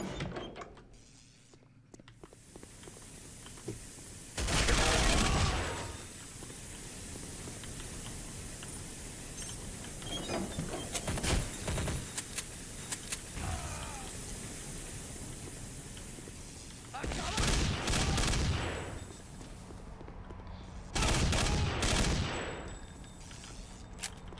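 FAMAS rifle gunfire in the video game Counter-Strike Condition Zero, heard as several dense bursts of rapid shots over a steady background of game noise.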